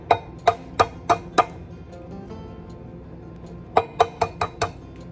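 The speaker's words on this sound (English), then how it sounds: "We're going to whisk in 2 eggs" Fork clinking against a bowl while whisking two eggs into oil for banana baking: a quick run of five sharp taps, a pause, then another burst of five or six close, bright clinks.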